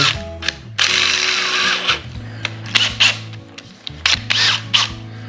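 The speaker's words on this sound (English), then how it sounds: "load that into your drill" A power drill fitted with a Phillips screwdriver bit whirs in short loud bursts, starting and stopping several times with a ratcheting, whining tone, close by and with no talking.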